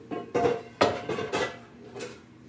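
A metal grill pan clatters as it is set back into a storage spot, giving a few separate knocks and clanks close by, about one every half second, then a softer final bump.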